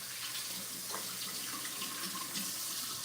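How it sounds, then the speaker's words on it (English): Hands being washed under a running kitchen tap, a steady broadband rush of water splashing into a sink throughout, close and continuous with no talking. "let me wash my hands first."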